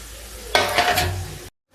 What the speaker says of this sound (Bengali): এবারে আমি ভাজা সবজিগুলো এর মধ্যে কিন্তু দিয়ে দিচ্ছি